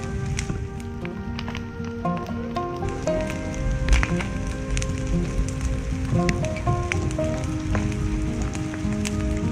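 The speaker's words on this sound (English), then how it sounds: "The rain's starting to pick back up," Rain falls outdoors near a hot wood fire where maple is drying, a dense patter of drops with scattered sharp ticks and pops under a busy, steady wash of sound.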